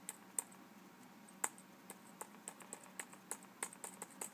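Clicky, irregular keystrokes on a MacBook keyboard being tested during a repair, close and fairly quiet, with a few sharper clacks standing out among lighter taps.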